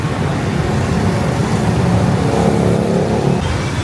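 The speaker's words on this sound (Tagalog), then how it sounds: "Grabe yung mga motor." Dense motorcycle traffic in Ho Chi Minh City, a continuous loud roar of many engines idling and revving close by, with no voices over it.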